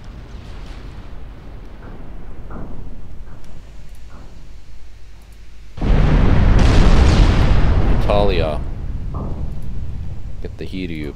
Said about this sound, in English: Sannita has taken some more hits. 17-inch